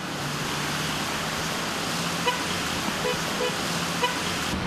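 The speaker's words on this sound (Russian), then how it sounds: "Ну вот, видите, пробка." Congested city-centre traffic in a jam caused by a landslide, with a steady roar of idling and creeping vehicles and a few short car horn toots sounding at moderate distance.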